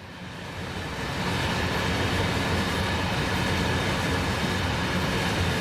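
A train rumbles steadily on the rails in Train Sim World 5, swelling in the first second and then holding a loud, continuous roar with faint clickety-clack beneath.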